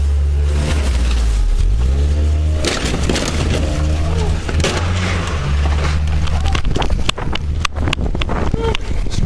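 A stolen car driven aggressively during a police stop, its engine revving and roaring loudly and close throughout, with wind buffeting and shouted voices over it.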